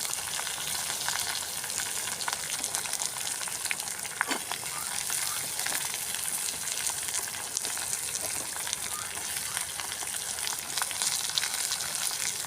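Onions frying in a pan for appalam gravy at a village cooking spot, a steady close hiss of sizzling oil with faint crackles and an occasional stir, lasting throughout at moderate loudness.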